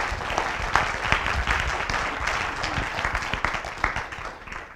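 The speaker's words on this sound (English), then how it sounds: "Round of applause for Ryan Golt." Audience at a hospital foundation symposium applauds a speaker, a crowd of individual claps at moderate volume, sustained throughout and easing slightly near the end.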